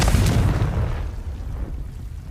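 A Confringo blasting spell explodes in Hogwarts Legacy, a loud booming burst at the start that decays over about a second into a rumbling tail.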